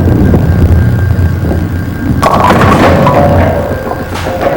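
A bowling ball rolls down the lane and crashes into the pins on a spare attempt, a sudden loud clatter about halfway through followed by scattered rattling over steady alley background noise.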